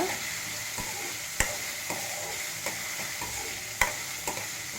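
Vegetables such as potato, carrot and beans fry in a pan with a steady broadband sizzle, punctuated by periodic sharp clicks and scrapes of a spoon stirring against the pan, moderately close, with no talking.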